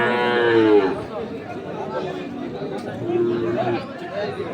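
A Sahiwal calf moos at close range, then low calls continue beneath a hum of crowd chatter and voices at a busy cattle market in Ambari.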